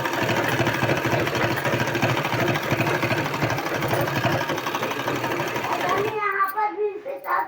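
A sewing machine stitches a sleeve in a steady, loud mechanical whir for about six seconds, then stops, leaving a few softer clicks and handling noises.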